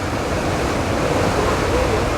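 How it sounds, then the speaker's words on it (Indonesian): Ocean waves wash onto Caringin beach in a steady, loud roar of surf with some wind across the microphone. The noise is continuous from start to finish and nobody speaks over it. "hari ini kami berada di sekitaran pantai Caringin"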